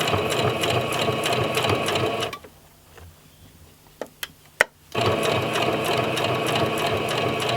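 Sewing machine stitching a dress, a rapid close mechanical whirring that stops abruptly for a few seconds with a couple of small clicks, then starts again at full speed, no talking.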